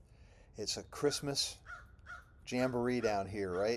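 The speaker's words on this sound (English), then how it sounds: "That's a crow." Crow in Tampa, Florida gives several loud, close caws in quick succession, followed by a person talking.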